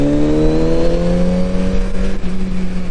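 A 2022 Kawasaki Z900RS motorcycle engine held at high RPM, a loud, steady, close buzzing drone with a slight upward pitch drift and no talk over it.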